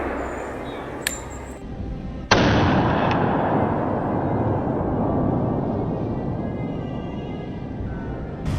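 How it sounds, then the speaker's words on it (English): A single sharp rifle shot fired at a wild boar, loud and sudden, followed by a long rolling echo and outdoor ambience, with a faint click just before. "Bernie raised his rifle, took careful aim, and pulled the trigger."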